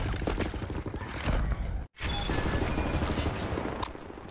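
Covering gunfire in Wolfenstein: The New Order, a dense rapid fusillade of close, loud shots that breaks off for a split second, then resumes as sustained automatic fire.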